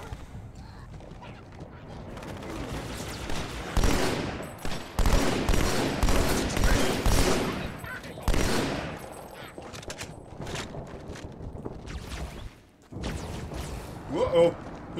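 Gunfire in the Halo video game aimed at the player, with dense bursts of rapid shots and impacts crowding the middle of the passage, loud and close, sitting on a continuous game backdrop with brief lulls.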